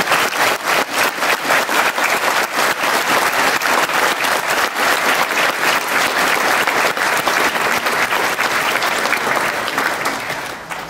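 A concert audience gives sustained applause, dense steady clapping at full volume for the whole stretch, close and enthusiastic, with no talking.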